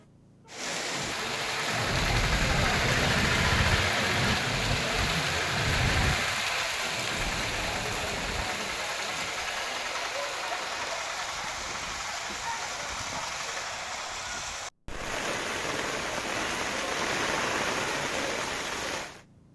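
Steady, dense monsoon rain in Amalapuram, Andhra Pradesh hisses continuously, a heavy wash of falling water that briefly cuts out near the end before resuming.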